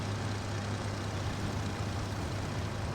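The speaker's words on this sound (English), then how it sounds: "I hear the plane" Airplane passing overhead in the Farming Simulator 25 video game, a steady low engine drone with broadband hiss, constant and moderately faint, no speech.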